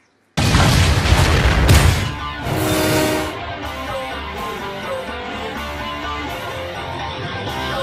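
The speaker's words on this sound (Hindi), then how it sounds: "ये बम ऑफ हो गया रे।" A loud bomb blast erupts suddenly after a moment of silence, a heavy booming burst that rolls on for a couple of seconds before a second roar and a long rumbling, crackling decay.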